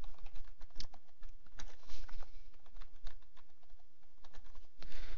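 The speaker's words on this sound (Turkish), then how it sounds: "Şifremizi yazıyoruz." Keys on a computer keyboard clatter in irregular bursts as a password is typed for a WordPress site setup, close and moderately loud with no voices over it.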